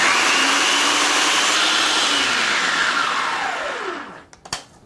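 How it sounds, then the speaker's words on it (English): A countertop blender whirs loudly and steadily through honey mustard ingredients, its pitch sweeping as the motor runs, then cuts off near the end, followed by a few brief clicks. "Put my lid on and blend."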